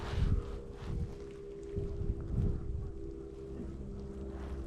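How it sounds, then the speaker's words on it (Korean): Strong wind gusts roar across a lake during spring bass fishing, buffeting the microphone in heavy rumbling surges, with a faint steady hum underneath. "아, 바람 너무 많이 부네. 바람 미친 거 아니야?"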